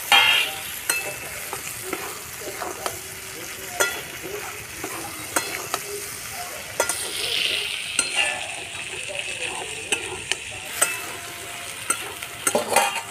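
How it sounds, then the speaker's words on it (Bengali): Sliced potatoes fry in oil rendered from rohu fish in a wok, a steady close sizzle with scraping stirs and clinks of a spatula throughout, no talking. "আলু ভাজার মতো কেটে রাখা আলুটা এবার দিয়ে দেবো।"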